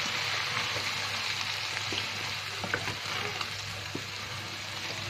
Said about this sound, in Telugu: ఇవన్నీ ఇందులోకి డంప్ చేసేసి బాగా కలుపుకోవాలి. కలుపుకుంటూ చికెన్ వేయించుకోవాలి.